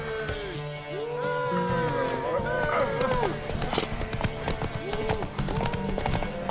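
Horse hooves gallop in a rhythmic clip-clop through a horse race in The Witcher 3, heard steadily beneath shouting voices and a melodic music score throughout.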